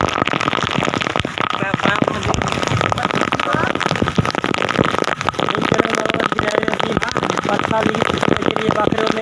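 Steady rain pours down in a village, a loud dense patter drumming on surfaces without a break, with people talking through it.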